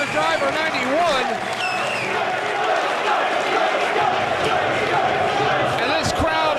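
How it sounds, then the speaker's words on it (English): A loud wrestling crowd roars and cheers continuously at a Briscoe brothers match, with a commentator's voice over the noise. "This crowd's going nuts, Eric."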